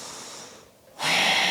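A deep breath is drawn during a flowing power yoga sequence: a soft exhale fades to near silence, then a loud, close, airy inhale rushes in and holds steady to the end.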